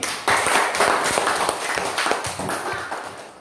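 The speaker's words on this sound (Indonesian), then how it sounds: "tepuk tangan untuk kelompoknya Pipin." A classroom group claps for a student team, producing a dense, uneven patter of hand claps at close range, with a few sharper individual slaps standing out and energy tapering slightly toward the end.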